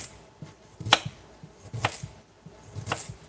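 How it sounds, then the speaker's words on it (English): A knife chopping carrots on a cutting board in a home kitchen, with three sharp, evenly spaced chops close up and quiet clatter between them, no voices. "Let's cut the carrots."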